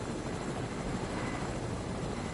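A helicopter in the video game Fortnite gives a steady, noisy whirring drone that holds at an even level without breaks.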